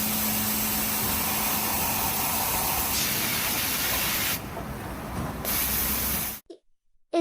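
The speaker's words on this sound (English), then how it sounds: "It uses a high-speed saw blade and hydraulic pressure to slice through the metal, while water spray keeps it cool to ensure a clean cut." A high-speed saw blade with hydraulic pressure cuts thick metal under a cooling water spray, giving a continuous loud spraying hiss with a grinding undertone that dips briefly and then cuts off abruptly near the end.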